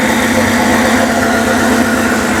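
A BMW 750iL engine idles with a steady, rumbling drone that sounds slightly uneven and lumpy, close up and continuous with no talking.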